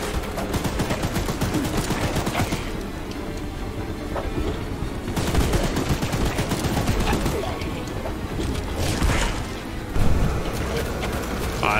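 Guns firing in the video game Choo Choo Charles, loud rapid bursts of gunfire that rattle on in long volleys, broken by brief lulls before the shooting resumes.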